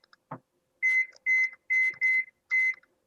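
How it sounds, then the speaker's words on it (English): A kitchen timer being set gives one low click and then five short bright electronic beeps in an even run, close and clear with nothing else behind them. "I'm gonna set my timer"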